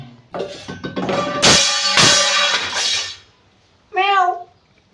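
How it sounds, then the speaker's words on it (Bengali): Dishes clatter and a voice sounds briefly, then a short, clear cat meow rises and falls near the end. "মনে হলো বিড়াল এসছে"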